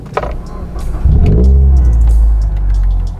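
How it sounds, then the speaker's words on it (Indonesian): A 2000 cc Mitsubishi Lancer EX cranks and fires up close by, surging into a loud revving roar that stays high before settling into a strong idle rumble. "kita nyalakan mesinnya guys"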